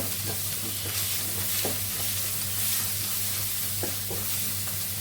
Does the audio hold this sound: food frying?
yes